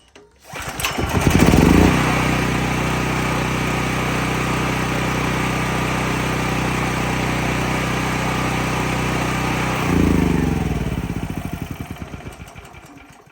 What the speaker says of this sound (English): I barely even pulled on it and it started